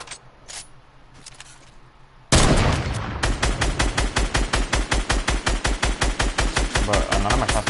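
Rapid automatic gunfire in a duos match of an online shooter game, beginning with a loud burst and continuing as a steady stream of closely spaced shots, very loud and up front after a few seconds of quieter game ambience.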